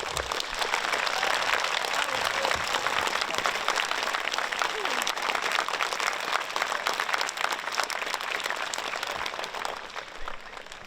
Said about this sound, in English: let's give them a big round of applause and a big cheer